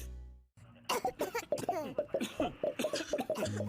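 Coughing in a Tucol familiar cough syrup advert: a short tone, then a run of repeated, close coughing bursts that sound like several family members, including children, with a few laugh-like catches between them.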